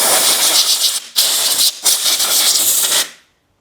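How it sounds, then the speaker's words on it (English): Compressed air blasts dust out of an Aprilia Tuareg motorcycle's air filter in loud, close, broadband hissing bursts, with two brief breaks before the jet cuts off. "I'm going to blow this out with some compressed air before we open it up"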